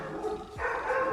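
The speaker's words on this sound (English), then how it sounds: "sorry about my dog's barking" A pet dog barks close by in a room, a couple of quick, sharp woofs in about a second, with no voices around them.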